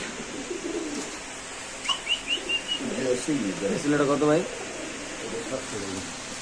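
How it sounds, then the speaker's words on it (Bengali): Soft, rhythmic pigeon cooing in a short run of pulses, with a person talking over it and a faint whistle-like chirp nearby. "এখানে আছে এক দুটো কবুতর ভাই"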